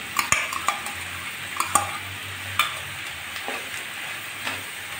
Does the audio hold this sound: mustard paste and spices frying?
yes